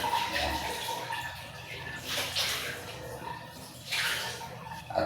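Water runs steadily from a tap into a container in a bathroom. The broad rushing swells and eases in waves, with faint sounds in the background.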